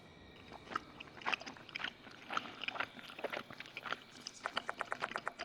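Wet munching and crunching of a person being devoured in the horror game Death Mark 2, a run of irregular bites growing into a rapid rhythmic chewing burst, close and quiet, with no talking.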